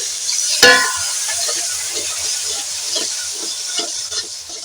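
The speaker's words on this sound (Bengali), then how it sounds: "এই বাদাম বাটা বাদামটাকে এই মশলার সঙ্গে ভেজে নেব" Ground nut paste frying with spices and a splash of water in a pan gives a continuous soft hiss, opening with a sharp scrape or clack and followed by faint intermittent stirring sounds.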